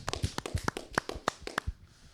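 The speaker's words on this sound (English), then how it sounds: "Round of applause, everybody." Applause for a rugby guest at a live rugby show, heard as a quick run of sharp, uneven hand claps and taps, close by and fairly loud, with no voices over it.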